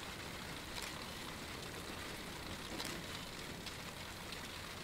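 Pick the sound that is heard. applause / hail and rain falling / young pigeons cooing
hail and rain falling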